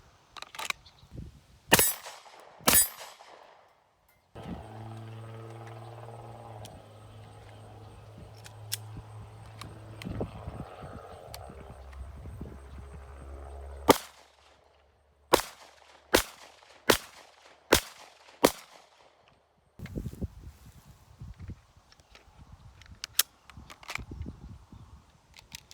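Shots from a Glock Gen 1 pistol, sharp and distinct, spread across the recording with a few early ones and a quick string of about six later, among quieter handling noises and a low hum.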